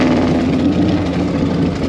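A 1940 flathead engine runs steadily up close with its carburetor needle tuned near the point of stumbling, producing a loud, even, low rumbling drone with no voices.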